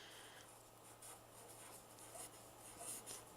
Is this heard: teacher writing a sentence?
yes